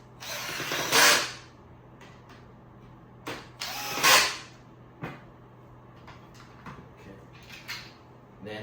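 Screws driven into the wooden pieces of a car bed platform being assembled, with two longer bright whirring bursts from a power driver and scattered sharp clicks and knocks of parts and hardware between them, close by with no speech.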